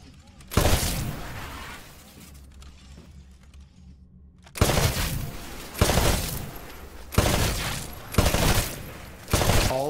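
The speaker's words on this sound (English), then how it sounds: "Switch to your rifle. To take a more calculated shot, you can aim down the sights of your weapon." Rifle shots at targets on a shooting range in Titanfall, about seven loud, sharp reports, one early, then a pause before a steady string of spaced shots, each with a short ringing tail.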